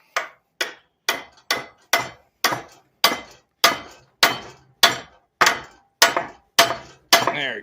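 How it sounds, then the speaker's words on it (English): A hammer strikes a seized metal part of a WWII winch about a dozen times in a steady, evenly spaced rhythm. Each blow rings sharply and fades quickly. "I've been beating on this thing with a hammer, trying to get her to free up"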